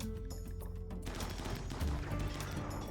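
Gunfire in the RimWorld colony game during a desert raid fight: rapid overlapping shots form a dense, continuous fusillade that swells after the first second and stays loud and steady to the end, with no voice over it.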